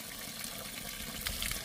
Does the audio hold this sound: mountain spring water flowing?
yes